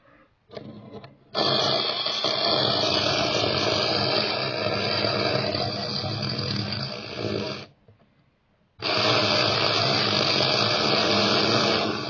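A Tyco Porsche Carrera slot car motor whines loudly and steadily in two long bursts, separated by a short silent gap and preceded by a brief start-up buzz.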